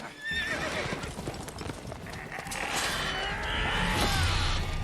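Horse hooves clip-clop quickly with a horse neighing and whinnying, steady and close throughout, in the video game The Witcher 3.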